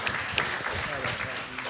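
A film-festival panel audience at the Tenderloin Museum breaks into brief applause, a dense patter of clapping from a crowd that continues under a speaking voice.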